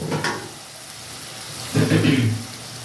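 Pointed gourd (potol) cooking with kasundi mustard sauce in a pan, a soft sizzle that briefly swells into a louder bubbling hiss toward the end, close by.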